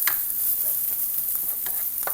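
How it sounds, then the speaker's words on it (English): Frozen cauliflower rice and lime are stirred in a hot pan on the stove, giving a steady sizzle with light scraping strokes of the utensil repeating every so often. "Now I'm going to stir this around"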